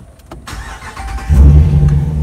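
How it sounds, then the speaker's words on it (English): A truck engine cranks and catches after a few faint clicks, then settles into a loud, close idle rumble. "But when you turn the truck on"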